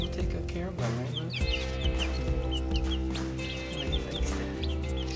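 Baby chicks peeping continuously in high, chirpy calls, close by and fairly loud, with a person talking over them.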